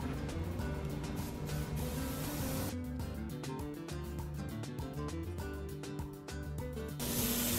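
ProAiir makeup sprayed from an airbrush through a stencil onto skin, a close steady hiss broken into short bursts in the second half, quiet overall.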